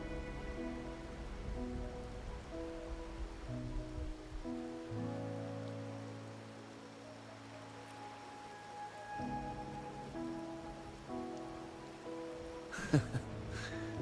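Steady rain falls in the Wuthering Waves video game, a soft continuous patter under sustained tonal music, with one brief louder burst near the end and no talking.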